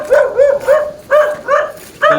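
An angry dog barks near and loud in a rapid run of six or so sharp barks on a roadside in General Lacar, Quezon.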